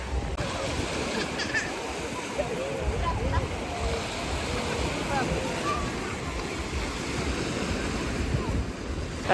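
Rough sea waves breaking at a small beach: a loud, steady wash of surf rolls on without pause, mixed with gusty wind buffeting the microphone.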